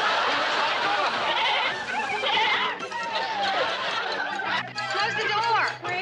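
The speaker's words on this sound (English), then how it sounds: "I guess looking for a place to hide the goat" Goats bleat repeatedly and loudly as people chatter and laugh over them on a television studio stage.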